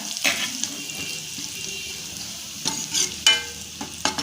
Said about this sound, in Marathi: लसूण थोडासा भाजून घेत घ्यायचा